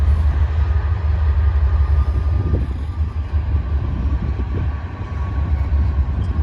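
An RJ Corman freight train led by six locomotives rolls past at a rail crossing diamond, a heavy, close diesel rumble with a steady low drone and grinding wheel noise throughout, no voices.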